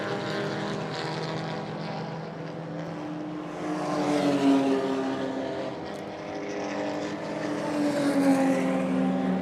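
A damaged B-tuned BMW M4 race car limps home at a drift event, its engine droning steadily with rising and falling pitch at moderate distance, no talk over it.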